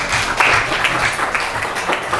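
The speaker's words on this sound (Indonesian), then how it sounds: "Kasih tepuk tangan dulu dong." A school class claps together in a classroom, a dense, fairly loud patter of hands that runs steadily through the whole moment, with faint voices mixed in.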